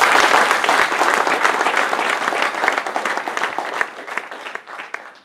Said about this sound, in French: Je vous demande une fois de plus d'applaudir M.